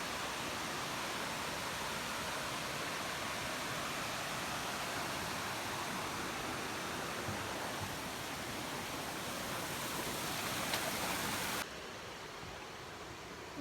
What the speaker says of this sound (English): Let's go check out the waterfall.